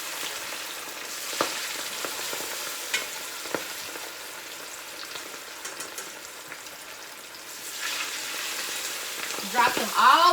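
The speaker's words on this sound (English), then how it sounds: "Drop that chicken in there." Chicken wings for barbecue wings, unfloured, dropping into hot oil and frying with a continuous crackling sizzle that swells louder toward the end, close and with no talk.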